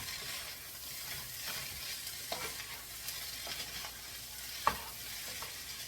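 Fried rice is stirred through oil in a 12-inch skillet with sides, a soft steady sizzle broken by scraping strokes and a few sharper clacks of the utensil against the pan.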